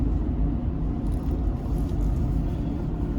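Interior rumble of a Ford Super Duty pickup with the 7.3-liter gas V8 cruising at 35 to 45 mph, a steady, loud low-frequency drone of engine and road noise running continuously with no talk.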